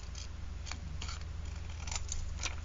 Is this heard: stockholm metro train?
no